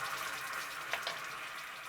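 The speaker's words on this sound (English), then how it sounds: "Remove the pan from the heat and add 2 tablespoons of boiling water." Two tablespoons of boiling water poured into golden caramel in a pan just off the heat, giving a short, hissing sizzle with a couple of small spattering bursts near the middle, close and moderately loud.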